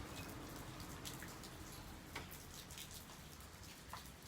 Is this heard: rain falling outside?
yes